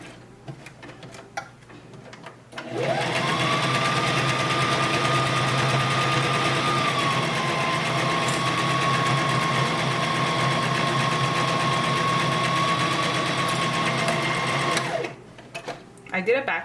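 An electric sewing machine runs in one long steady burst, stitching fabric for an owl stuffy and finishing with a back stitch; the loud, even motor whir holds for about twelve seconds, with brief talk before and after.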